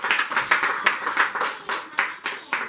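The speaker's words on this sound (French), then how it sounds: "Sous vos acclamations." Church congregation clapping in rhythm at a Sunday service, steady, evenly spaced claps repeating about three times per second, fairly close and clear with little else.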